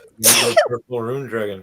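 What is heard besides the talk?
sneeze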